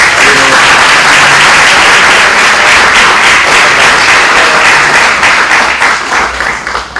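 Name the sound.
audience applause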